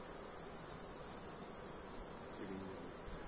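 Honey bees hum steadily at a beehive, a dense continuous buzz that stays even and fairly faint throughout, with no voices.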